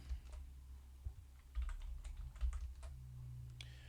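Computer keyboard typing in a quiet room during web server setup, a scattered run of soft individual keystrokes with short pauses and no voices.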